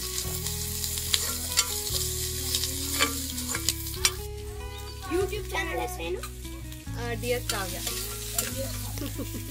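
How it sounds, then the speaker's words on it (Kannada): Garlic and ginger fry in oil for a village-style mutton masala on a farm, giving a steady close sizzle with stirring, while tonal sounds play in the background. "ಸೊ ಬೆಳ್ಳುಳ್ಳಿ ಜೊತೆಗೆ ಶುಂಠಿ ಎಲ್ಲನೂ ಎಣ್ಣೆಯಲ್ಲಿ ಹೀಗೆ ಫ್ರೈ ಮಾಡ್ಕೊತಾ ಇದ್ದೀನಿ."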